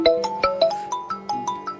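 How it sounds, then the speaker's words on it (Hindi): An electronic ringtone plays a repeating melodic pattern of short beeping tones, steady and fairly close, with no voices. "केकर फोन आबि गेल?"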